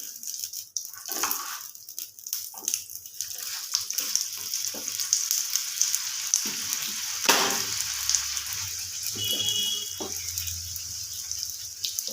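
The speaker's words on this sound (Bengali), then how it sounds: "এবার এর মধ্যে দিয়ে দেব ঘি এই পরোটাটা আমি ঘিয়ে ভাজবো সাদা তেলে ভাজবো না" Potato-stuffed paratha frying in ghee on a hot pan, a steady close sizzle with some splashing, watery crackle and a few scraping touches, no talking.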